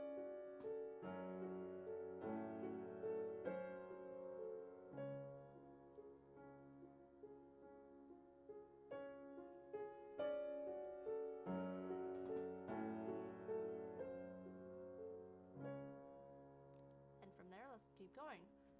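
A piano plays a passage from the first movement of Beethoven's Moonlight Sonata: slow, steady broken chords under a sustained melody, quiet and continuous.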